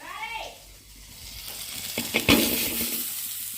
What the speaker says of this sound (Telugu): ఫ్రై చేస్తున్నాం